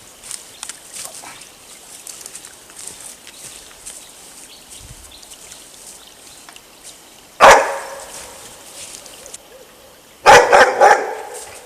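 A hunting dog barks in a forest, with a single sharp bark followed a few seconds later by a short burst of several barks, moderately distant, over faint background rustling.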